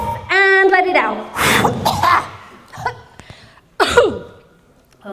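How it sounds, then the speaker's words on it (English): Several people cough and clear their throats in a room at a live event, with harsh bursts scattered across the moment, some overlapping, near and fairly loud amid a little vocal noise. "I hear a bunch of coughing going on, right?"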